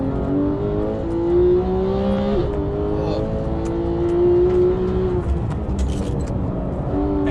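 A sports car is driven hard on a race track, its engine droning loud and steady with rising and falling pitch as it revs through corners and accelerates.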